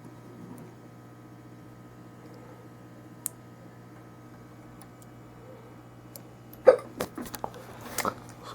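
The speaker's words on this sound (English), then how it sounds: "Somebody's got the hiccups, guys." Hiccups from someone near a workbench where a Corvair odometer is being rebuilt, a few sharp isolated hics after several seconds of quiet hum, the first faint and single, then a louder cluster close together near the end.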